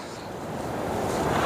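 Ocean surf washes onto a sandy beach near an old estuary mouth, a broad rushing roar that swells steadily louder over a second and a half, with wind buffeting the microphone.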